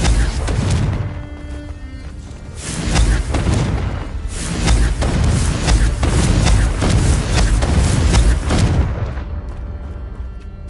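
Repeated heavy explosive blasts from the Confringo fire spell in Hogwarts Legacy, booming thuds closely spaced across the stretch, loud and dense, then easing off at the end.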